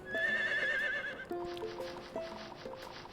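A horse in the farming game Harvest Moon: The Winds of Anthos gives one loud, wavering whinny, followed by light hoofbeat clip-clops and soft chiming game tones.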